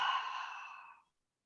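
A deep, slow exhale during a yoga session, a single soft breathy sigh that fades out after about a second, close and alone.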